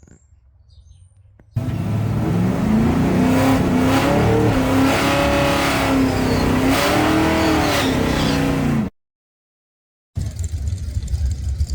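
Drag racing car at Dragway 42 in West Salem, Ohio, during the Little Bucks Hootenanny, its engine roaring loud and close in a sustained rising and falling rev for several seconds, then cutting off abruptly before faint outdoor ambience returns.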